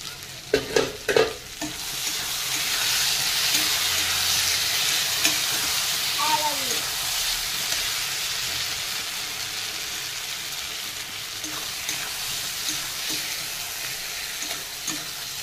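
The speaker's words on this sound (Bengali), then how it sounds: "বেগুনগুলো ভাজা হচ্ছে" Eggplant pieces fry in a pan with a loud, steady sizzle and bubbling. A few quick utensil knocks come at the start, followed by occasional stirring scrapes, and nobody speaks.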